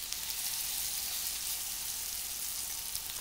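Salmon with turmeric and ginger fries in a pan over moderate heat, giving a steady, close, loud sizzle with no break and no talk.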